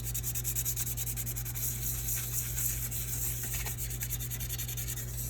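Sandpaper scuffing the surface of an acrylic blank, a steady close-up rubbing hiss that continues without pause under a constant low electrical hum.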